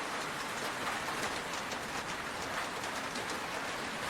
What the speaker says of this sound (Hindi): चीमा के घर के आसपास मछलियों की बारिश हो रही है।